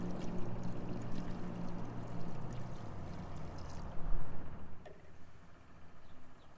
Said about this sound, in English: There's our radiator flush.